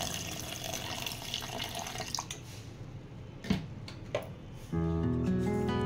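Water runs steadily into a mixer jar of soaked ration rice for dosa batter, a continuous close splash and trickle, with a couple of knocks near the end before a humming tone takes over.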